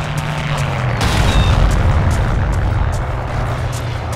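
Artillery shells explode in the Forgotten Hope 2 war game, a loud, deep boom that rumbles and rolls over a steady noisy battlefield backdrop, with faint repeated pops in the distance.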